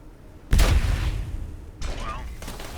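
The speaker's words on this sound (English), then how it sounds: "That explosion certainly had a frame rate." C4 charge detonating in the video game Aliens: Dark Descent: a sudden loud boom rolls off, followed by a second smaller blast and faint rumbling, with voices briefly heard.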